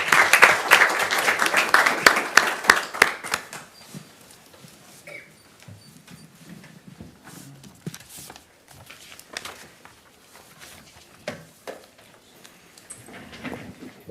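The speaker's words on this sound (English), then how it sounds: "Let's give them an applause again." Applause from the audience at a city council meeting: a dense burst of clapping fills the first few seconds, then thins to scattered claps and faint room noise.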